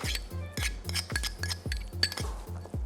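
Grainy mustard, capers, shallot and olive oil stirred together in a bowl, a quick steady run of utensil clinks and scrapes against the dish, close and fairly loud with no talking.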